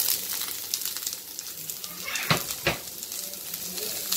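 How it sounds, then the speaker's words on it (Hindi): Onions dropped into half a cup of hot oil in a pan sizzle loudly, with a continuous crackling hiss and a couple of sharper bursts near the end, close and alone. "तो ये मैं अनियन डाल रही हूँ।"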